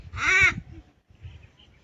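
A single loud, harsh caw from a pet crow rings out up close, followed by a quieter, fainter call.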